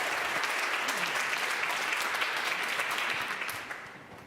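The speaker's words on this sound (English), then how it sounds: "Let's give a round of applause to Jan Malcolm" Sustained applause from a community forum audience honoring Jan Malcolm, a dense, even clapping that holds steady for about three and a half seconds before thinning and fading out at the end.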